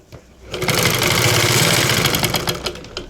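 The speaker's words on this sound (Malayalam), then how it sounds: "മെഷീൻ കൊണ്ട് സ്റ്റിച്ച് ചെയ്തെടുക്കുകയാണ് ചെയ്തത്" A sewing machine stitches an umbrella skirt, its motor whirring up into a steady fast rattle for a couple of seconds before slowing, heard close and loud without talk.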